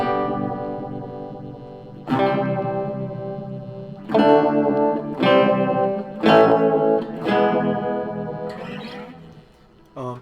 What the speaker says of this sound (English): I'm going to kick in the phaser.